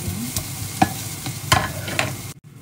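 Garlic frying in a pan as it is stirred, a steady close sizzle broken by several sharp scraping strokes of the utensil, alone with no talk, ending abruptly.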